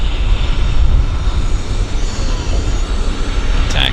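A regional jet rolls along the ground at Vancouver airport, a steady broad engine roar with low rumble that holds at a moderate distance throughout.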